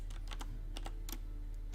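Keys clatter in quick irregular clusters on a computer keyboard at a game developers conference, close and clear above a constant low background hum.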